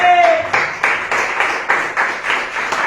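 A church congregation claps in a steady rhythmic beat, roughly two claps per second, loud and close, with a brief tone at the start.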